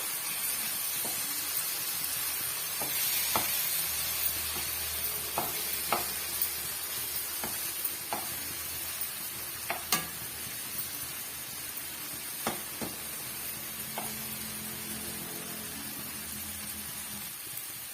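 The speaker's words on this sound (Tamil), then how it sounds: "இப்போ மசாலாவோட சேர்ந்த மாதிரி நம்ம கிண்டி விட்டுக்கலாம்" Egg frying over a medium flame in a pan with masala while being stirred, for a roadside-style masala puri made from leftover chapati: steady sizzling with repeated sharp scrapes and taps of a utensil against the pan.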